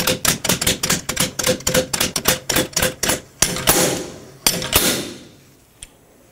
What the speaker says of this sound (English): you can use a slide hammer, pull back, and that will remove the bearing for you.